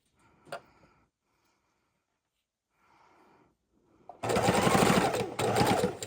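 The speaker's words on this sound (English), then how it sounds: "we're just sewing the scraps down." A sewing machine stitches fabric scraps down onto a base, running loud and close in two steady bursts after a few quiet handling noises.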